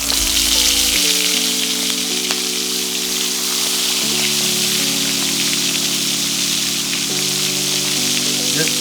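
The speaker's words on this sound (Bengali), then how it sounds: "জাস্ট 30 সেকেন্ড আর 30 সেকেন্ড আমরা এক একটা ভেজে নিব।" Prawns fry in hot oil, a loud, dense, continuous sizzle like heavy rain that holds evenly throughout, with a steady tonal hum beneath and no talking.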